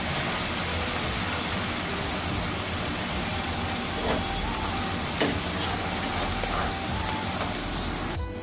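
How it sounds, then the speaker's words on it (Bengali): Shredded potatoes deep-frying in hot oil for a crisp, banquet-style dish, giving a steady, dense sizzle and hiss with a few sharp pops and crackles near the end. "বাকিগুলো সব একইভাবে ভেজে নেব"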